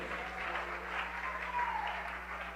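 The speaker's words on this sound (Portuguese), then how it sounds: "Vamos aplaudir mais ao nome do Senhor por cada vida que está chegando." A church congregation applauds during a service, a steady wash of many hands clapping at moderate distance, fairly faint and continuous without talk over it.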